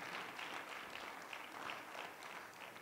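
Steady applause from a church congregation at a revival service, a dense continuous wash of many hands clapping at moderate distance with no break across the moment.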